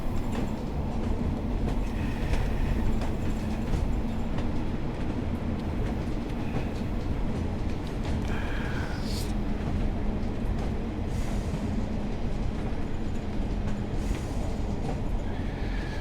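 A British Rail Pacer train runs along the track with a low rumble, rhythmic wheel clatter and brief higher squeals, heard steadily from inside or nearby for about sixteen seconds, with no talking.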